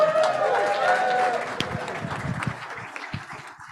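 An audience at a school meeting cheers and whoops loudly alongside clapping, the noise strongest at first and then thinning to scattered claps and murmurs.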